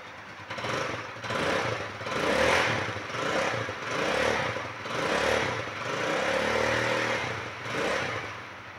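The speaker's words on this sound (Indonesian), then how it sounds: "saya baru pertama kali sih mendengarkan langsung suara motor KLX 150" Kawasaki KLX 150 SM 2023 single-cylinder motorcycle engine revved repeatedly from idle, about six rising and falling throttle blips in a regular rhythm, close and fairly quiet, with no talking.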